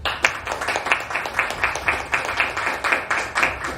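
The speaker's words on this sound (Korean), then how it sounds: "박수 한번 치세요." An audience at a Korean political gathering claps together in a steady, even rhythm, with sharp repeated bursts at a moderate, close distance.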